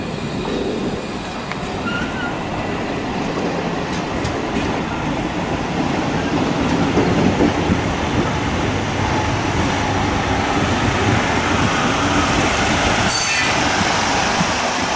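A train rolls into a station in Tunisia with continuous rumbling and clattering wheels, a faint squeal partway through, loud and steady throughout.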